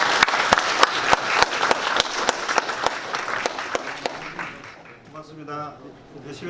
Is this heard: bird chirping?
no